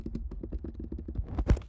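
Quick, close keystrokes on a computer keyboard in a rapid, even run of clicks, ending in a slightly louder tap.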